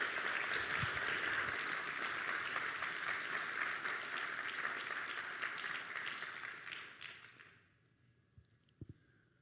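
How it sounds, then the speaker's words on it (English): An audience at a high school signing day event applauds the colleges, a sustained roar of many hands clapping loudly for about seven seconds before fading away, followed by near silence and a couple of faint knocks. "Can y'all clap it up for all these universities,"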